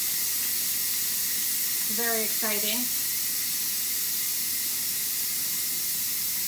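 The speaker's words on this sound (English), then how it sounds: "now I'm going to press the steam release button so we can release the steam." Steam hisses continuously from the release button of a quick cooker after making cheddar broccoli risotto with chicken, a loud steady rush close by, while a person briefly speaks over it.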